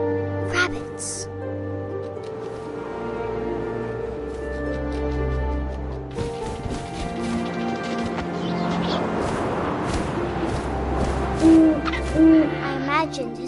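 An owl hoots in the video game What Remains of Edith Finch, a couple of short low calls heard amid wind and ambient game sounds, with narration over much of the scene.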